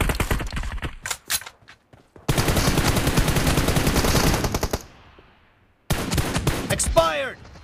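Gunfire in the mobile game PUBG Mobile: rapid bursts of automatic fire, a long sustained volley, a short pause, then more shots and a ringing metallic ricochet, loud and close.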